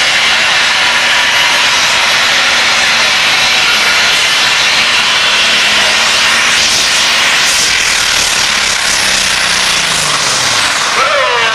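A turbocharged pro stock pulling tractor engine roars continuously at a NTPA Grand National event, a loud, sustained jet-like whine and rumble with a pitch shift near the end.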